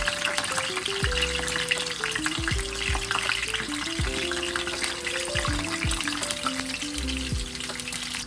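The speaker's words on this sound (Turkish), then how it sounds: "Bir tavada ayçiçek yağını ısıtıp patlıcanların dört tarafını güzelce kızartıyoruz" Steady, dense sizzling of eggplants frying in hot sunflower oil in a pan, loud and continuous throughout with crackling spatter and no voices.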